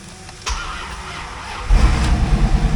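A 1994 Corvette C4 with an LT1 V8 and six-speed manual running close by, a steady mid-pitched engine hum that deepens and swells into a louder, throbbing rumble partway through.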